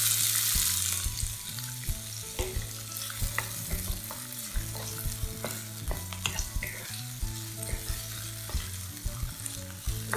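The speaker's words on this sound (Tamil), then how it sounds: "வெங்காயம் சேர்க்க போகிறேன்." Onions frying in hot oil for a chapathi roll filling, a steady close sizzle with repeated clacks and scrapes as a spoon stirs them around the pan, no talking.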